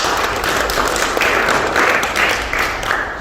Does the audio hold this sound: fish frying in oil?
no